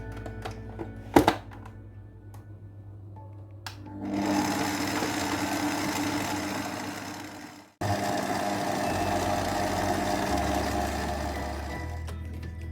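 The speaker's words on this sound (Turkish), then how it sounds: "Daha sonra vanilin ve kabartma tozu ilave ediyorum. Ve tekrar çırpacağım." An electric mixer whisks sponge cake batter with flour, vanilla and baking powder, a steady whirring drone lasting several seconds that pauses briefly and then resumes, with a thump just before it starts and no voices.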